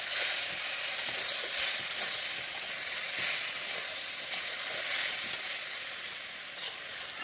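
Boiled jujubes for pickle sizzle and crackle in a hot pan while being stirred, a steady close frying hiss with faint scraping from the stirring and occasional pops, no voices.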